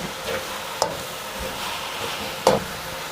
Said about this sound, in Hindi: इसको अच्छे से मिक्स कर लेंगे, ताकि पूरी फिलिंग में मसाला हमारा अच्छे से रच जाए।